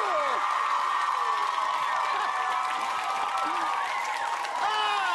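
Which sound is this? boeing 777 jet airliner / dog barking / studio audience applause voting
studio audience applause voting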